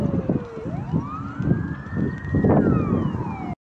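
A fire engine rushing to a call in the Repino neighbourhood, its siren wailing and sweeping up and down in pitch over the steady roar of traffic, loud and close.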